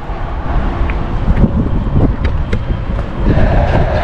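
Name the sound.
strong wind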